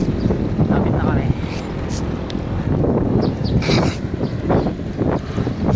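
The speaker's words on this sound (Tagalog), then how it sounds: "Lakas ng hangin." Strong wind buffeting a microphone while cycling along an open road near Candaba, Pampanga, a steady low roar throughout with someone talking over it.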